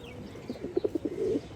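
A Musal knot pigeon coos in a loft, giving a short run of soft, low, rhythmic coos that swell near the end, close by and alone.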